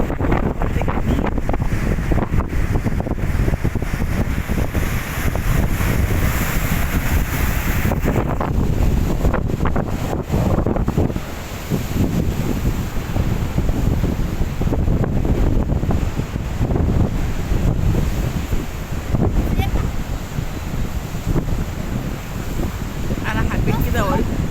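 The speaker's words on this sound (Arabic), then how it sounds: "البحر جديد، بحر حلو قوي، بحر جميل." Sea waves and strong wind at a beach in Agami make a loud, continuous rushing roar with heavy wind buffeting on the microphone and a voice speaking faintly.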